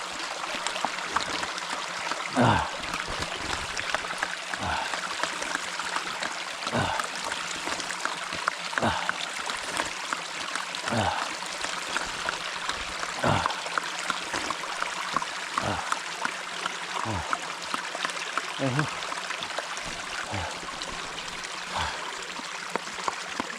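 Stream water flows through the jungle in a steady, continuous rush, with small splashes and clicks now and then and no voices.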